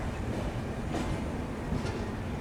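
A Garib Rath express hauled by a WAG9 locomotive rolls into a station, a low steady rumble of wheels and carriages with faint clatter, heard from the platform without talk.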